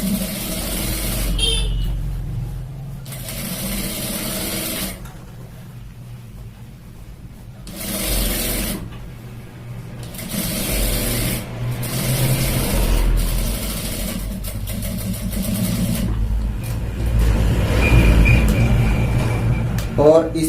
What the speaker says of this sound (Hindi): मजबूती के लिए दोस्तों हमें यहाँ पर सिलाई के ऊपर सिलाई लगानी है